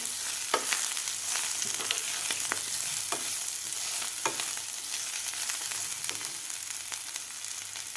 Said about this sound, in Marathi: उकडून घेतलेली भाजी भाजी आपल्याला व्यवस्थित हलवून घ्यायची आहे